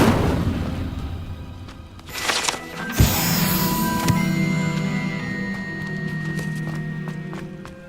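Incendio fire spell cast in Hogwarts Legacy: a sudden whooshing burst of flame with sharp booming impacts near the start, then a sustained crackling, humming magical tail under scattered game effects.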